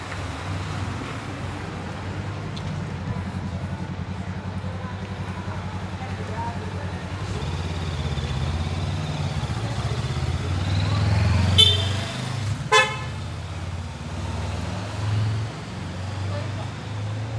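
Night road traffic in Naxos, Greece, with engines passing steadily at moderate distance. Two short car horn honks stand out near the end, and faint voices drift in and out beneath.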